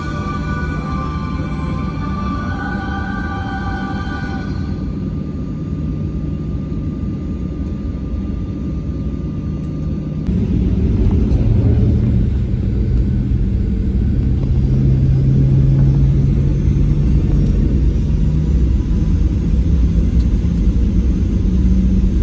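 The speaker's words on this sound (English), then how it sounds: "It was now time to take off, departing from Uluru about 5 minutes ahead of schedule." A Qantas Boeing 737 takes off from Uluru, heard from inside the cabin: a steady engine hum and whine, then a sudden louder roar as thrust builds, with deep rumble continuing through the takeoff run.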